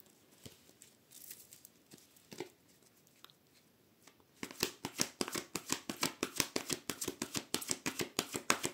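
A deck of tarot cards is handled and cut: a few soft, scattered card sounds, then a rapid, close run of crisp flicking and riffling patter that continues to the end.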